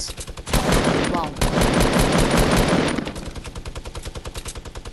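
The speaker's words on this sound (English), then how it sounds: "This guy is a minigun maniac." Minigun firing in Fortnite, a loud, close, continuous burst of rapid gunfire lasting a couple of seconds, then trailing into quieter repeated shots.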